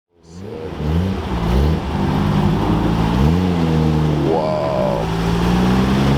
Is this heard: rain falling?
no